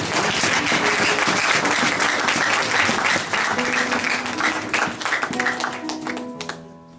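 A church congregation bursts into sustained applause and cheering for the Lord, loud and continuous clapping filling the room before tapering off as faint tones rise near the end.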